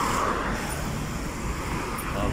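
Road traffic rolls past on a street in Sto. Tomas, Batangas, a steady close hum of cars and motor vehicles with a passing vehicle swell, while someone talks over it.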